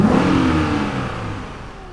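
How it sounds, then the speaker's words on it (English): A 420-horsepower V8 car engine revs up and then winds down over a couple of seconds, the throaty roar fading as it settles. "Where there is a 420 horsepower V8 engine"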